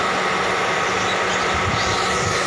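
A Toyota Bigbody engine runs steadily at close range, a continuous broadband mechanical drone with a low rumble underneath and no voices over it.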